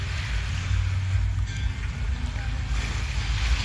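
Small waves lap near boats moored at night off Phi Phi Island, Thailand, under a heavy low rumble of wind and water that runs on without a break.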